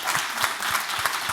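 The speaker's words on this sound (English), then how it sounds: "Thank you, all the panel, please applause." Audience at a regulatory science network annual meeting applauds the panel, a brief burst of steady clapping heard on its own.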